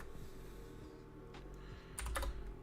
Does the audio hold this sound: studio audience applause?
no